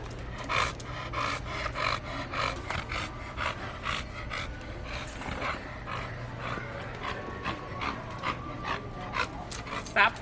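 A big dog of about 80 pounds pants rapidly and steadily up close, with rasping breaths and some scuffing, while someone talks over it.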